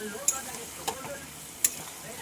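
Boiled soybean chunks with ginger-cumin paste fry in a pan as a curry, a soft continuous sizzle broken by three sharp clicks of the spoon against the pan.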